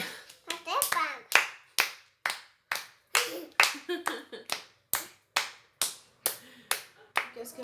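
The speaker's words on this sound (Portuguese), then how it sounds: "Bater palmas." A child claps hands in a slow, steady rhythm, around twenty distinct close claps spaced evenly apart, with a voice and an adult's voice speaking between some of them.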